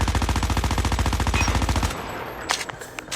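Sustained rapid automatic fire from an MX9 submachine gun in a video game, a loud even stream of shots for about two seconds that stops abruptly, followed by a few faint clicks and thuds.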